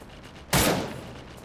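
A single sharp burst of gunfire from a freeze gun in the video game Cyber Hunter, loud and sudden, then a fading tail.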